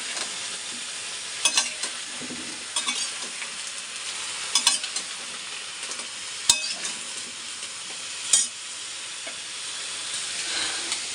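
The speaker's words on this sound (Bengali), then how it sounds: "এখন এটা একটু ভাজা ভাজা করে নিই।" Winter vegetables, including spinach and ridge gourd, fry for khichuri in a pan. A steady soft sizzle runs throughout, broken by several sharp scraping clacks from a spoon stirring against the pan. No one talks.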